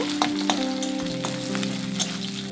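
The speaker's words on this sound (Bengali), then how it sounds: "পেঁয়াজটি একটু ভাজা হয়ে এসছে।" Chopped onion frying in oil in a wok, a dense even sizzle with several clicks and scrapes of a spatula at irregular intervals and a low steady hum.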